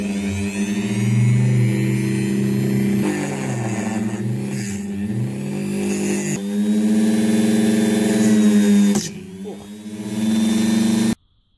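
A power tool spins a cheap carbide bit with a loud, steady whine. The motor revs up and down in several surges, cuts out briefly, spins up again and stops abruptly.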